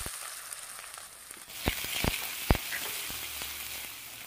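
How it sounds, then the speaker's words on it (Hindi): Finely chopped onion fries gently in a pan with cumin and browned garlic, a soft steady sizzle broken by a few sharp crackles and pops around the middle. "अब हम इसमें डालेंगे बारीक कटी हुई प्याज।"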